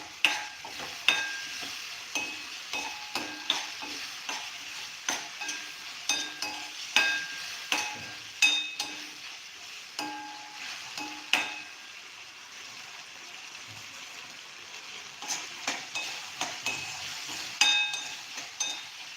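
Potatoes frying for batata poha are stirred and pressed with a spoon in a pan, producing a continuous soft sizzle punctuated by regular scraping and tapping strokes and occasional metallic clinks.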